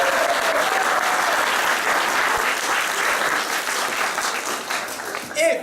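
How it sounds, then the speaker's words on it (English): An audience at a live improvised fairy-tale theatre show claps its hands together in a steady, loud burst of applause that fills the room and tapers slightly near the end. "if you believe in magic, clap your hands"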